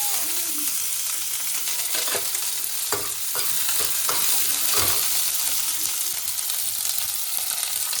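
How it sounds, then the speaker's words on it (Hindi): Chopped onions hitting hot oil for Maggi noodles, a loud, close, continuous crackling sizzle with a few brief stirring scrapes and clatters partway through, no talking. "तेल भी मेरा यहाँ पे गर्म हो चुका है। तो अब सबसे पहले प्याज,"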